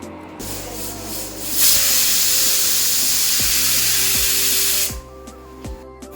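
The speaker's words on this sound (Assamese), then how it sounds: "3টা হুইচেল গ'ল কুকাৰত" Steam whistle of a pressure cooker cooking mutton: one loud, sustained hissing blast that rises sharply, holds for about three seconds and then cuts off, with faint clinks and low hum around it.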